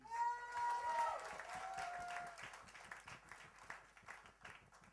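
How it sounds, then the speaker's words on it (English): An audience at a press meet and fashion show applauds with quick, dense clapping that tapers gradually over several seconds, moderately loud with a brief tonal note near the start. "I think this guy deserves another round of applause, please"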